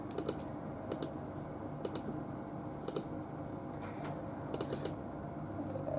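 Keyboard typing while setting up a Hikvision eDVR DS-E04HQHI-B: short clustered bursts of key clicks separated by pauses, close and fairly quiet over a steady room hiss.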